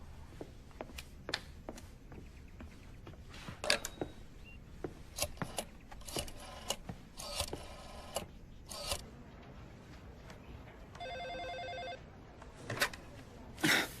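Telephone bell ringing indoors, short repeated rings among footsteps, clicks and handling sounds, moderately close but fairly quiet, with no voices.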